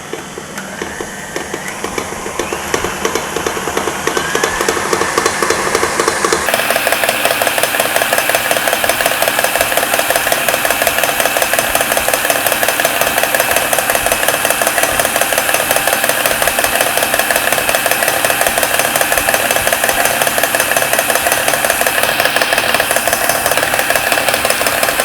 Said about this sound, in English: I just have the KitchenAid here. I'm going to fit the bowl and then beat this for about 3 to 4 minutes on high speed